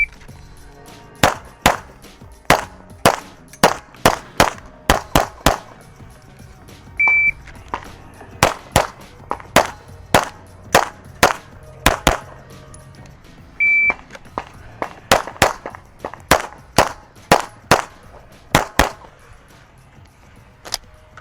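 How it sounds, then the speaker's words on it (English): Live gunfire at a shooting training session: roughly thirty sharp, loud reports in quick irregular strings, separated by brief pauses, with a couple of short electronic timer beeps, and no talking. "You're just gonna watch me shoot."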